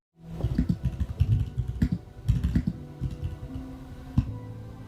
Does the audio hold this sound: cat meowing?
no